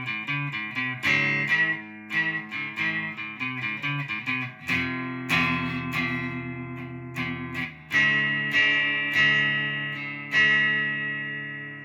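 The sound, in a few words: electric guitar playing verse ending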